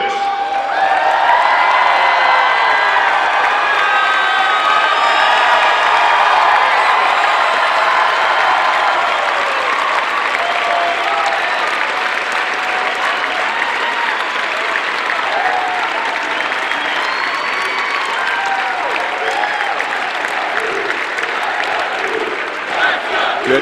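A large basketball crowd at JMU's Convocation Center applauds and cheers for the JMU Dukes men's team, a loud, sustained roar of clapping and whoops that holds steady for over twenty seconds.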